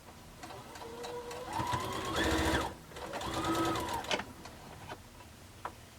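A sewing machine chain pieces a four patch quilt block, whirring in two steady runs of rapid needle stitching separated by a brief pause, followed by a few light clicks and handling noises.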